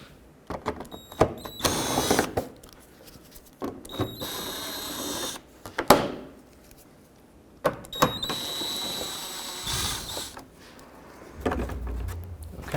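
A power drill whirs in short bursts, removing screws from the splash shield of a 2002–06 Toyota Camry, with clunks and rattles of parts between runs, close by.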